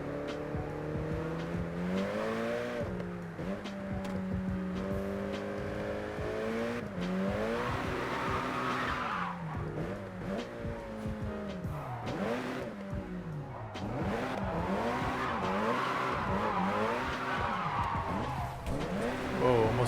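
Engine revving and tire squeal from a car drifting in the video game JDM Drift Master, a steady loud roar with wavering pitch as the car slides through long drifts, and a voice talks now and then.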